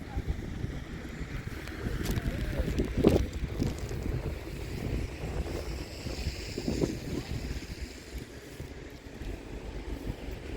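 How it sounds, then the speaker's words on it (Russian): Strong December wind in Visaginas, Lithuania, roars and buffets the microphone in uneven gusts, with a louder blast partway through and a constant rushing backdrop. "Очень сильно ветрено."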